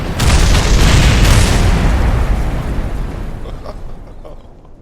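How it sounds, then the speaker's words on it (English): A rocket blowing up in Kerbal Space Program, one loud booming explosion with a roaring, crackling burst that slowly fades into quiet over several seconds. "Oh, it's going to explode."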